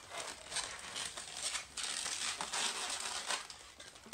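Squeezing and twisting a modelling balloon while shaping a pug's muzzle, giving dense rubbery squeaks and crinkling rubs that run steadily, close and fairly quiet, with no talk.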